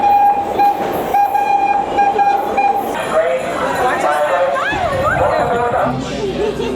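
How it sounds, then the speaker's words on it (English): A holiday train carrying Santa rumbles past in Chicago with a sustained horn blast near the start, wheels clattering and brakes squealing, while people talk excitedly over it. "there's a holiday train with Santa on it."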